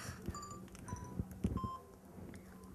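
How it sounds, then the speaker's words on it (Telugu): Telephone keypad tones beeping as a number is dialed, several short separate beeps at an uneven pace over quiet background noise. "ఇప్పుడే మినిస్టర్కి ఫోన్ చేసి చెప్తా చూడు"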